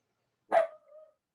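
A single excited dog bark, close and fairly loud, with a short trailing whine-like tail, then silence.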